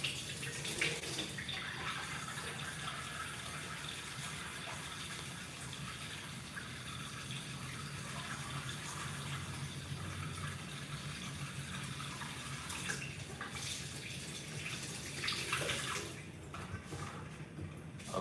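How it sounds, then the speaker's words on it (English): Tap water runs steadily into a sink as hands are washed in a home kitchen, a continuous soft gush with small splashing changes, faint and unbroken throughout. "let me wash my hands."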